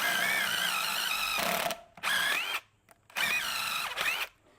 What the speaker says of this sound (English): And so I'm using my hammer drill.